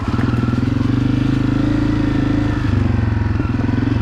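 A Honda CRF250F dirt bike rides through autumn woods, its single-cylinder engine thumping loud and close at a steady, pulsing idle-to-low rev with a brief dip and clatter partway through.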